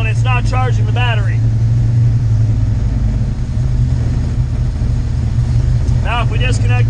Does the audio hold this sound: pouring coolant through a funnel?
no